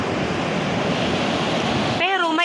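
Rough sea waves crashing as continuous loud surf, a dense roaring wash up close, with a voice cutting in briefly near the end.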